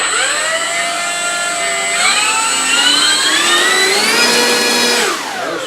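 An E-Flite 1.2 m Corsair RC plane's electric motor runs at full throttle, a steady loud high-pitched whine that climbs in pitch in steps as it spools up, with no talking.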